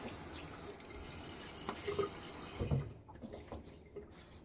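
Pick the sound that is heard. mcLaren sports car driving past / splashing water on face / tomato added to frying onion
splashing water on face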